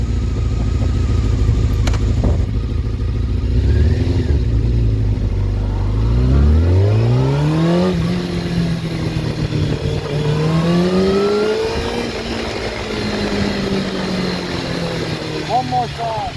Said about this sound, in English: I can show you the response of the motorcycle when you're trying to move away.